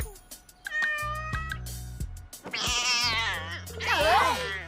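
A cartoon cat meows in several drawn-out, wavering cries, loud and close, with background music and brief cartoon effects between them.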